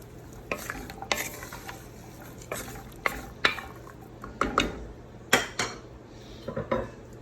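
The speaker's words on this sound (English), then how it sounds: "We put it in the pot with the remaining bacon fat. And just let it saute till they're nice and caramelized." Butternut squash, carrots, garlic and onions sauté in leftover bacon fat in a pot while a utensil repeatedly stirs and scrapes against the metal. Clear clanks and scrapes stand out over a steady low sizzle, with no talk.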